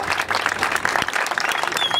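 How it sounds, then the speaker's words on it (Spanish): An audience at a rap battle final claps and cheers in a dense burst of applause, close and steady for about two seconds with crowd noise. "¡Fuerte las palmas!"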